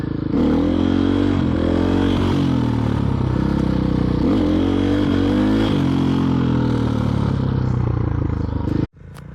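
A motorcycle engine revs steadily with repeated throttle blips during clutch-up wheelie practice, loud and close for several seconds before cutting off abruptly near the end.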